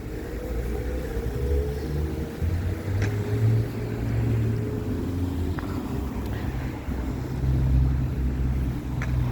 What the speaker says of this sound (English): That car should not be coming.